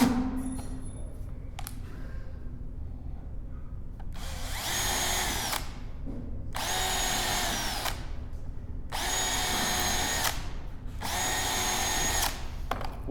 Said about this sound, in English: we're going to go ahead and we're going to drill a couple of holes.